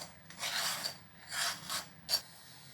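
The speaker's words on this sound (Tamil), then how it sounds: "இது மேலே இருக்கிற தோலெல்லாம் நம்ம சீவி எடுத்துடலாம்" A peeler scrapes the ridged skin off a ridge gourd in three rasping strokes, the last one short and sharp, close up and fairly quiet with no talking.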